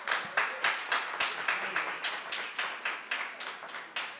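A small audience at a therapy talk show claps in a sparse, uneven burst, individual claps distinct and fairly close, fading slightly over about four seconds with no talk.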